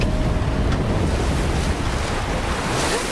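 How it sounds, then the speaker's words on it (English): Strong wind roars continuously, buffeting the microphone with heavy rumbling gusts, loud and close throughout with no talk. "Goodness, where did that wind come from?"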